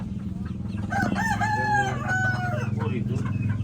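Kadaknath rooster, a black breed, crowing a single drawn-out cock-a-doodle-doo, loud and close over a steady low hum of farm background noise.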